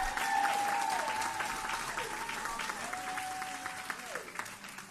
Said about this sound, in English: Once again, please give them another round of applause.